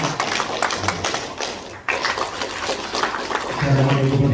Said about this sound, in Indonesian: Karena hanya tepuk tangan